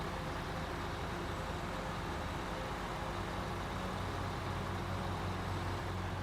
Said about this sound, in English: the same engine in a different truck sounds different